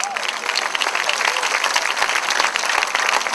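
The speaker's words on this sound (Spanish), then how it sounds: "Denle un aplauso al Señor." Steady applause from a church congregation during a sermon, dense clapping sustained throughout at an even level.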